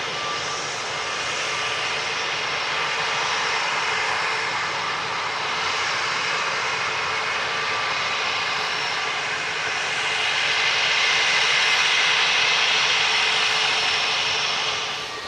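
Jet airliner engines at Manchester Airport give a loud, steady roar close by that holds throughout and swells a little toward the end, with no voices.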